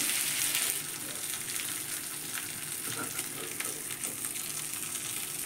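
Tandoori-style chicken pieces fry in a pan over moderate heat with a close, continuous crackling sizzle and small irregular pops, steady from start to finish with no talking.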